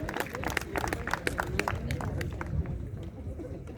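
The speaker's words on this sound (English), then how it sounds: "A huge round of applause for Mihir Naik." Audience applause for a prize winner at a school sports felicitation ceremony, dense clapping with sharp individual claps over crowd chatter, strong at first and thinning toward the end.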